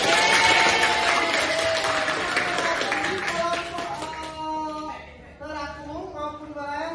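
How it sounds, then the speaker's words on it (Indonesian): Applause in a school classroom: a dense wash of clapping from students fills the first few seconds, then thins out as children's voices and chatter take over. "Tepuk tangan."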